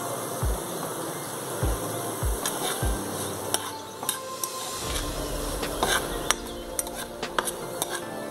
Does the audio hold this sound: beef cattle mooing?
no